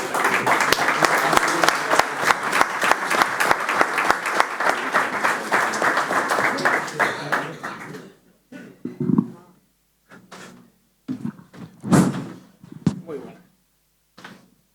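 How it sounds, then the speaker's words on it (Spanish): An audience breaks into loud, sustained applause welcoming a chef at a pork-gastronomy session, dense clapping for about eight seconds before giving way to someone speaking with a few scattered claps. "Lo recibimos con un fuerte aplauso"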